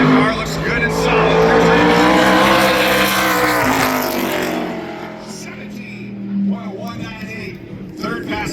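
Mason Mitchell's ARCA Menards Series race car laps Berlin Raceway in qualifying, its engine a loud sustained roar that peaks early and then eases away, with a voice talking over it.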